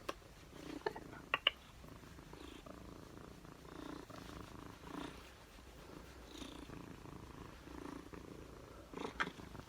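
Newty, a house cat, purrs softly and steadily at close range, with a few faint clicks and rustles over the low, continuous rumble.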